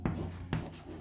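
Pen strokes on paper while writing out a geometry solution come as two quick scratchy bursts about half a second apart, close and crisp, with no voice over them.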